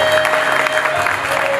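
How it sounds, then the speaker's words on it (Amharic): A church congregation claps for the Lord during worship, a dense, steady wash of applause filling the room with a held tone and faint voices mixed underneath. "አጨብጭቡ ለጌታ።"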